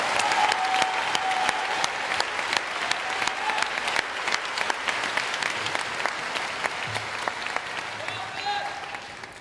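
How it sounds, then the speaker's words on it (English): High school graduation audience giving a sustained round of applause for the teachers, broad crowd clapping with sharp individual claps standing out and faint voices underneath. "I would like us all to give a rousing round of applause to show our teachers we appreciate them"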